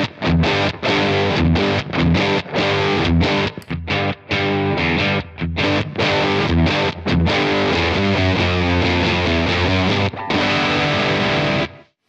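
Electric guitar played through a Czech TESLA-based overdrive effect, giving a lighter but gritty drive; loud, continuous chords and riffs with brief stops, no voices.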